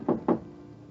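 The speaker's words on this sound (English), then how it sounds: "you rub your knuckles against a door marked 4" Two firm knuckle knocks rap on a wooden door marked 4, close and distinct with a short pause between them, followed by quiet room tone.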